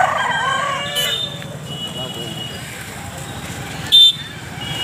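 Roosters crow and cluck at a busy rural country chicken market, with a crowd chattering throughout and occasional passing vehicles and a short toot in the background.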